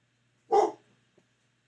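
A single dog bark indoors, one short close yelp followed by a faint tiny sound, otherwise quiet.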